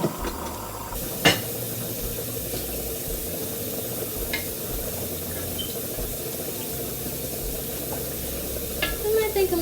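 Meatballs of seasoned beef frying in a pan, a steady soft sizzle running throughout with a few sharp clinks and scrapes near the start and end.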